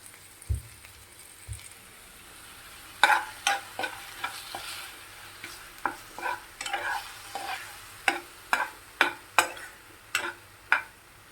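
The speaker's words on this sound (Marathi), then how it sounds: "टोमॅटो आणि मिरचीचं जे आपण वाटण केलं आहे ते टाकायचं आहे त्याच्यात" Tomato and chili paste fries in a pan for veg kolhapuri, a quiet sizzle punctuated by a run of sharp spoon clicks and scrapes that quicken in the second half, with no voices.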